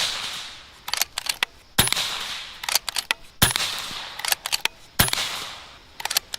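Air gun fired at a headshot target through a red dot sight with a magnifier, four sharp shots spaced evenly, each followed by a brief cluster of mechanical clicks, close and fairly loud with no talking.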